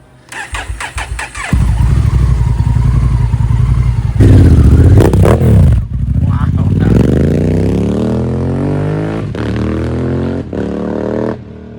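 A loud Honda Africa Twin motorcycle with an Akrapovič racing exhaust roars nearby, revving hard and accelerating with a rising pitch, its exhaust rumbling steadily, while people speak briefly over it.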